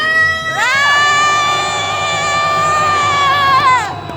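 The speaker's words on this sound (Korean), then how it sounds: "함성 한번 질러보겠습니다." A crowd at a candlelight protest march lets out one loud, sustained shout together. The cry swells quickly, holds for several seconds, then drops off.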